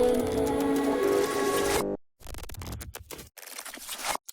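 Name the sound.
glitch transition effects from chorus to build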